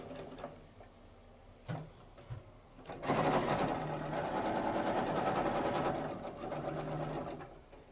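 A sewing machine stitches a quilt strip for a table runner across bulky meeting seams, starting with a few short bursts, then running steadily and loudly for about five seconds close by.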